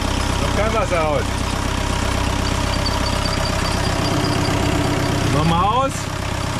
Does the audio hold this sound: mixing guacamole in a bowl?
no